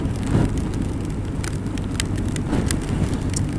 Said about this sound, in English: it rained, and it rained, and it rained, and it rained